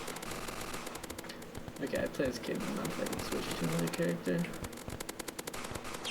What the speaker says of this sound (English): this sound effect that I use here for the artillery explosion thingies is also in Undertale